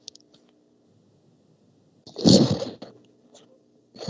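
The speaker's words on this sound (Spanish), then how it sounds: "Perdón, voy a estornudar." A single abrupt sneeze bursts out indoors during a physiology lecture on cardiac conduction. Quiet room hum and a faint click or two come before it.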